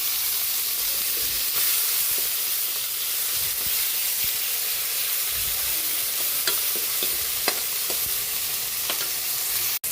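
Onion and tomato sautéing in a pan for pinakbet, a steady loud sizzle and hiss running throughout with occasional utensil clicks and stirring scrapes close by.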